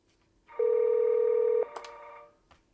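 A Polycom 350/450 business desk phone sounds a steady electronic dialing tone for about a second after the dial key is pressed, then a softer ringback-style tone with a couple of faint clicks, fairly close and clear with no talking.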